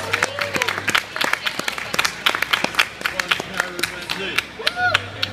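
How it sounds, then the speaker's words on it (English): Scattered clapping from an audience at VegFest, a vegan festival Q&A, with sharp separate claps over a talkative crowd, building unevenly rather than into a dense roar. "we need a huge round of applause for Karen"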